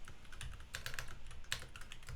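Rapid typing on a computer keyboard, with uneven bursts of clicking keys and a few sharper, louder strokes, set against a steady low room hum.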